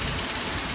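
Idling engine of a 2006 Nissan Frontier pickup with a timing chain and oil pump fault, a steady low rumble with rapid irregular knocking, close and continuous.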